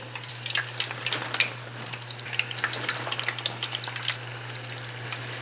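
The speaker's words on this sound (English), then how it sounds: "we're going to continue with the process till we finish double frying all the chicken" Chicken pieces double frying in hot oil give a steady, busy sizzle with bright crackles and pops, close up, under a constant low electrical hum.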